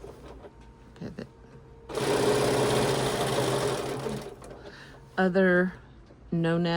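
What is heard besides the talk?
sewing machine stitching a stuffed bear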